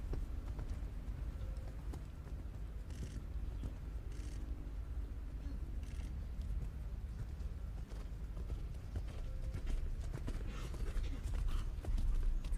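Horse cantering through a medium canter circle in a junior eventing dressage test at a European Championships, with a steady hoof rhythm. Broad arena ambience sits over it, and a commentator's voice carries through the background.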